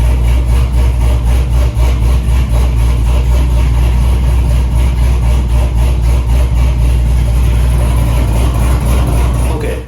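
A cammed C6 Z06 Corvette engine idles with a loud, steady lumpy chop, recorded from inside the car, its rhythmic pulsing continuous throughout with no talk.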